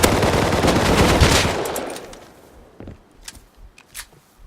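Gunfire in the survival video game Rust: a dense, loud burst of rapid automatic shots for about two seconds, then a few scattered, fainter single shots.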